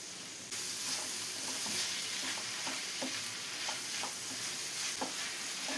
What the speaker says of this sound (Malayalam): ഹൈ ഫ്ലെയിമിൽ വെച്ചിട്ട് തന്നെ ഇളക്കിയെടുത്ത് നമുക്ക് ഇതൊന്ന് കുക്ക് ചെയ്തെടുക്കാം.